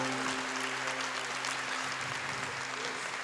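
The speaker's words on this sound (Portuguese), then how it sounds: "Vamos aplaudir Deus, gente." Audience applauding at a Catholic religious talk, a steady dense wash of clapping throughout with faint tonal hum beneath, moderately distant.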